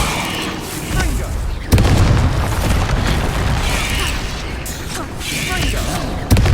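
A Confringo blasting spell goes off in the Hogwarts Legacy video game as a loud, booming burst with a sharp crack near the start of the explosion and rumbling debris afterward, up close, with game voices mixed in.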